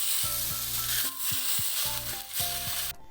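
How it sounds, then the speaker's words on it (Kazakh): Loud crackling sizzle of hot oil poured onto an autumn vegetable salad, bursting in waves with brief pauses, close by, over a low droning hum. "Енді қызған майымызды салатымыздың үстіне құйып шығамыз."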